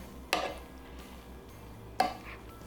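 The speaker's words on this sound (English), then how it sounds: "I think I should gently stir this to get it all in the sauce" Food is stirred into sauce in a pan, heard as two quiet separate scrapes of a utensil against the pan over a low hum, without talk.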